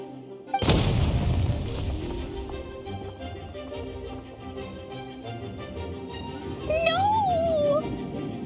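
A sudden loud boom from an explosion in the video game Genshin Impact, followed by a ringing, decaying tail and a brief whistling flourish near the end.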